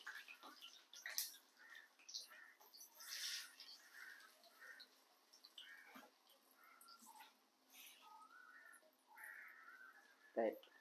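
A bird, probably a crow, caws faintly several times outdoors around a Jaffna home kitchen, with scattered household noises and people talking nearby.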